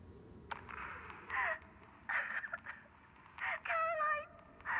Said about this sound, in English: Chicken's a hell of a domestic bird.